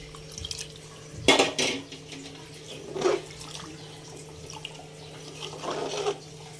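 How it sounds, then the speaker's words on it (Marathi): Water splashes and runs into a cooking pot in bursts, with clanks of the metal vessel, close by in a home kitchen during preparation of chicken vade and chicken 65. "टाकून घेऊया पाणी."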